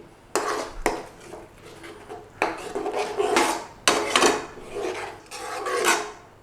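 A metal spoon stirs chicken handi curry in a cooking pot, giving repeated scraping, clinking strokes in an uneven rhythm, close and fairly distinct, with no talking.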